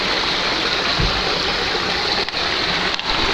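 Water flowing in a stream at a park on a warm day, a steady broadband rush that stays close and continuous throughout, with a brief low thump near the start and no voices.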